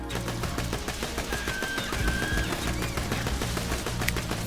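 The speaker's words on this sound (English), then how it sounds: "interesting little feature with this gun is that the firing pattern actually creates a lemniscate, aka figure 8, aka an infinity symbol" An infinite-ammo gun fires nonstop in Borderlands 2, a dense stream of rapid game gunshots that stays loud and unbroken throughout.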